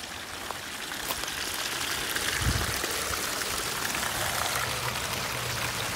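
Water spills steadily down a koi pond waterfall, a dense continuous splashing and trickling that stays close and even throughout, with a brief low thump midway.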